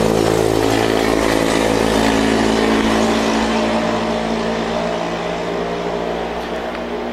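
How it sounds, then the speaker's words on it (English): A loud motorcycle with no muffler roars past outside, its heavy, rough engine drone sustained throughout and easing slightly toward the end, with no voices. "Got goofy rednecks on loud-ass motorcycles around here all the time."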